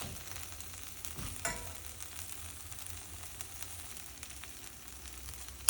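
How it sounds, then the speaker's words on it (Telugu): Ginger garlic paste frying in oil for a chicken curry, a quiet steady sizzle with a brief scrape of stirring near the start and a louder clatter at the very end. "అల్లం వెల్లుల్లి పేస్ట్ బాగా వేగిపోయిందండి, ఆయిల్ కూడా బాగా పైకి తేలుతుంది."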